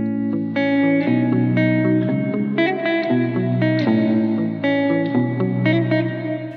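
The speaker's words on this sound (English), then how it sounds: "And you can hear immediately it's too much reverb." Electric guitar chords ring through a dark plate reverb, the heavy wet tail washing over each strum and blurring the attacks in a steady, loud, continuous passage with no voices.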